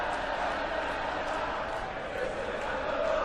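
A darts crowd at the 2015 World Matchplay roars steadily for Van der Voort after a 180, a dense, sustained wall of cheering and clapping under a commentator's voice.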